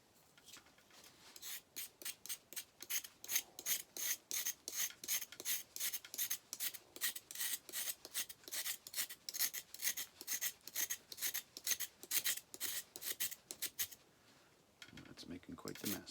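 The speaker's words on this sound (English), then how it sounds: "So let's grind up some of this charcoal just onto this napkin here." Charcoal is ground onto a napkin in a quick, regular rasping rhythm, with dozens of close scraping strokes in a steady back-and-forth pattern that stops near the end.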